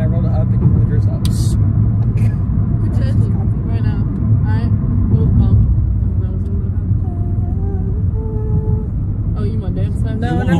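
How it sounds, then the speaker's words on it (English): Steady loud road and engine rumble inside a small Honda car while driving, a constant low drone with people chatting over it. "we're just in a little cute little Honda vehicle here. That's really loud and annoying."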